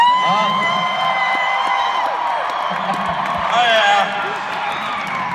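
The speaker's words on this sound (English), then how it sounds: "What are y'all screaming at?" A crowd at a live event screams and cheers in a loud, continuous roar with whoops rising and falling, while a voice speaks over the din.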